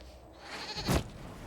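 A goat bleats once in the fantasy role-playing game Dragon Age Inquisition, a short, loud, bright cry rising out of quiet game ambience.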